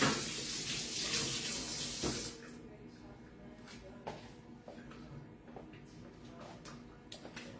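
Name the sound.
rinsing hands under running tap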